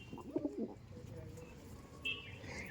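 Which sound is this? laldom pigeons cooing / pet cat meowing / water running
laldom pigeons cooing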